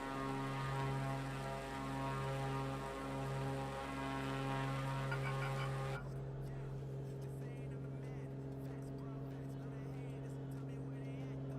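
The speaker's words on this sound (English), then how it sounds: "I assume it's just the default turboprop sounds we're getting, but it is nice when that one flies past it" Steady drone of a turboprop aircraft engine in Microsoft Flight Simulator, a constant hum with strong tonal harmonics that drops in brightness partway through, with no talk over it.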